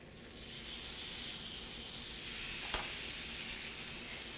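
Glazed barbecue meat sizzles with a steady hiss on a hot cooking surface, broken by one sharp pop or clack as it is flipped over.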